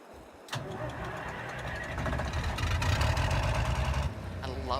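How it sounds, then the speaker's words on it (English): A tractor engine in Farming Simulator 22 runs steadily with a deep, loud rumble that swells after a short quiet start, holding a rough, continuous drone and a brief shift in tone near the end. "I love the sound of this tractor."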